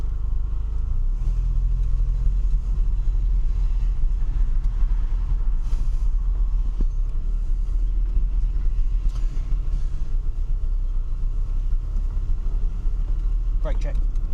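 An abandoned Mercedes W124 rolls down a driveway, its engine a steady low rumble close by with faint knocks and scrapes over it and a sharp squeal near the end; a voice speaks over the engine noise.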